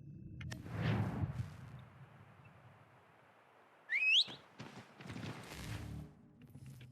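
A rising whistle in Assassin's Creed III calls the player's horse, a sharp, brief tone that stands out against low ambient game sound and light hoof noise.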